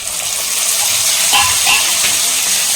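Tomatoes go into hot oil for a peanut kathirikka gravy, giving a steady loud hiss and sizzle that fills the whole short moment without any talk.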